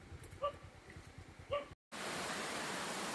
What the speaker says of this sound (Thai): คุณผู้ชมครับนี่คือน้ำตกซัมไซ